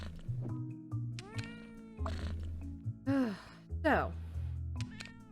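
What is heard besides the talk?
cat meowing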